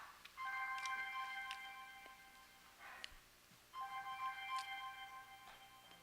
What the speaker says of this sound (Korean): 그 전화를 뭐 한다고 그래 예배 그냥 켜놓고 그렇게 방해를 하세요